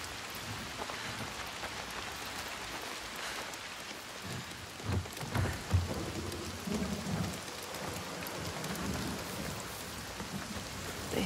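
Steady heavy rain with rumbling thunder in a constant storm in the video game Hellblade II, a dense continuous downpour with low rolls swelling midway, no voices.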